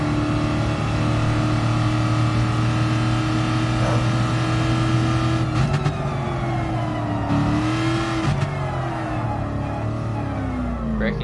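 Shelby Cobra 427 in a classic Le Mans racing video game, engine droning at steady revs, then dipping and shifting pitch as it brakes, with a brief rushing whir midway; loud and close.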